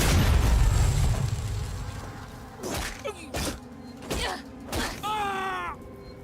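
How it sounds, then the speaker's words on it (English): A flashbang grenade going off in Alien: Isolation: a loud opening burst, then several sharp, heavy thuds spaced about a second apart, closing with a creaking, wavering tone. "Flashbang"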